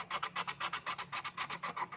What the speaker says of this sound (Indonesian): Paku keenam yang kita amplas supaya dia berwarna putih.